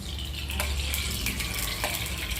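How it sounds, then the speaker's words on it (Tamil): Sesame oil heating in a pan for a perandai thovaiyal, giving a steady close sizzle and crackle with occasional utensil taps against the metal. "நல்லெண்ணெய் ஊற்றணும்."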